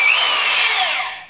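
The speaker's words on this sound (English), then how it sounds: "now I'm ready to drill some holes up into the cabinet" A power drill bores holes up into a kitchen cabinet during a Black & Decker under-cabinet appliance installation, giving one steady, close, loud whine that runs without a break and fades slightly at the end.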